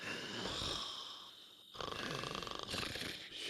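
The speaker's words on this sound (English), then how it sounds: "Who is snoring like that?" A sleeping person snores with a rough, rasping rhythm suggestive of sleep apnea, quiet and somewhat distant, with the pulsing breaths growing more regular after a brief pause.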